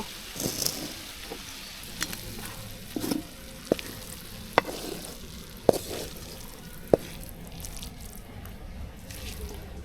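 Shrimp frying in coconut milk in a pan gives a steady bubbling sizzle, with sharp clinks of a spoon against the vessel at intervals, close and without speech.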